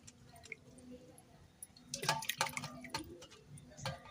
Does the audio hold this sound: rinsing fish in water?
yes